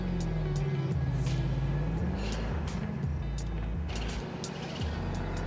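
Car engine in the video game Neverness to Everness, a low steady drone with a wavering pitch that stays under the whole stretch, with scattered clicks and noise above.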